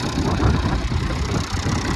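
A tractor engine drives a reaper harvesting sesame in a field, giving a loud, steady, close low rumble with a constant vibrating drone and no talk over it.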